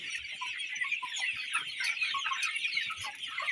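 Sonali chickens crowd a dark poultry shed, a dense flock clucking and chattering together at close range in a continuous, busy din with no talk over it.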